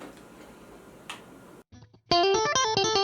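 A modified Stratocaster electric guitar played through effects rings out in a bright, sustained run of chords and notes after a few soft clicks and noisy handling.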